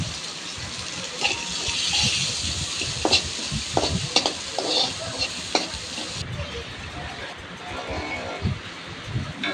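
Fish such as small shrimp and batashi frying in a pan late at night, a steady crackling sizzle broken by scraping stirs and clinks of a utensil, close and continuous.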